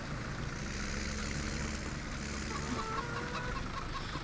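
Chickens cluck faintly in Farming Simulator 17 on a farm field being ploughed, with a few short clucks rising over a steady low rumble of machinery and ambient game noise.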